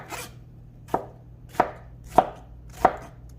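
Knife slicing an onion thickly on a cutting board: five sharp, evenly spaced chops, close and crisp, with no talk.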